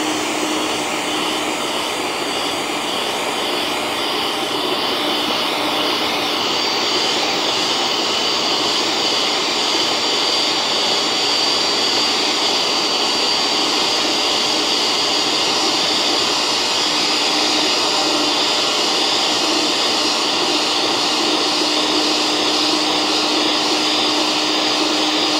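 An electric mixer beats chocolate cake batter with margarine, giving a loud, steady, continuous whirring drone that runs unbroken for the whole stretch with no talking over it.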